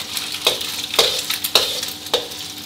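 Eggs fry in a pan and are scrambled with a spatula, as in Thai stir-fried cabbage with egg: a constant hiss of frying broken by four sharp, evenly spaced scraping strokes, close and fairly loud, with no voices.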